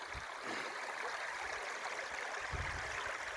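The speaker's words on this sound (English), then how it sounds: "As you can see, the water's flowing nice underneath it" A small stream runs steadily beneath a 12-foot bridge on rural cabin property in spring, a faint, continuous watery rush with no voices over it.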